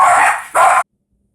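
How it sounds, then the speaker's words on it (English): A single dog barks twice in quick succession, loud and close, each bark short and sharp before cutting off into silence. "My dog's freaked out about something."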